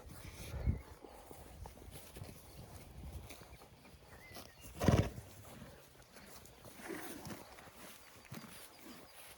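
Vladimir heavy draft horses move about outdoors, with soft hoof thuds and shuffling, a louder snort or whinny near the middle, and faint background noise.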